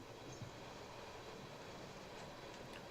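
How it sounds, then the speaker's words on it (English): A crude oil freight train rolls past at a distance, producing a steady, faint rumble of railcars that continues without a break. "this must be a crude oil train going back to Canada."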